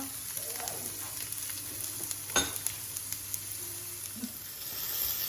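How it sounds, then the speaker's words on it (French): Chilies and red bell pepper fry in a pan with a steady, quiet sizzle, broken by a few faint stirring clicks and scrapes. "faire cuire un peu les piments avec une poivron rouge"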